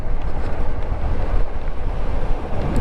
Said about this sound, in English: Oh, it's kind of windy